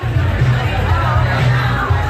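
Dense crowd murmur fills a packed comedy venue, many voices blending into a steady roar with a low hum underneath, loud and continuous throughout.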